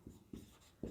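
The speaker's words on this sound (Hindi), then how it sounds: "ऐसे लिखते हैं" Marker or chalk strokes on a classroom board during a physics lesson, three short scratchy strokes evenly spaced over one second, close and fairly quiet with no talk.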